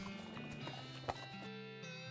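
A horse in the West of Loathing video game gives a quick whinny amid soft hoof clops and muted game background tones, faint and short.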